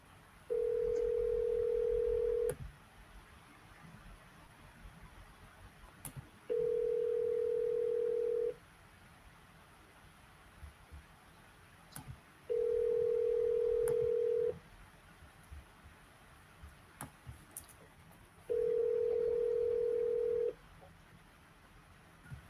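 A phone call in progress: four long steady ringback tones evenly spaced a few seconds apart, with faint clicks and quiet gaps between them and no speech.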